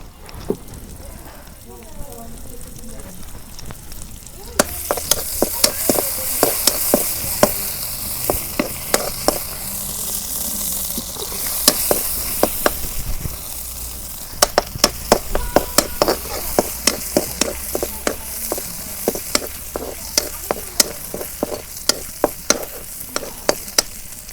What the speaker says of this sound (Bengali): এখন আমি পেঁয়াজ কুচি দিয়ে দিই তেল গরম হচ্ছে